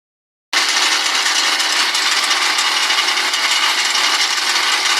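After a moment of silence, a vibrating potato digger driven by a single-cylinder Zirka 105 diesel engine of 6 horsepower, with an angle-grinder gearbox, starts running unloaded with a loud, steady, rattling mechanical roar nearby.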